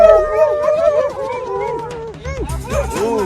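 Several Labrador dogs howl together nearby, a loud, wavering chorus of rising and falling cries that carries on throughout.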